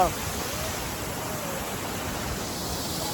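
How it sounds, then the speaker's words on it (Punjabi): A waterfall beside the mountain road to Sach Pass gives a steady, broadband rushing roar that holds constant and unbroken throughout, with no distinct voices above it. "ਆਵਾਜ਼ ਬੜੀ ਸੋਹਣੀ ਆ ਝਰਨੇ ਦੀ"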